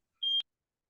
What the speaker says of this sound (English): Got this fire alarm going on.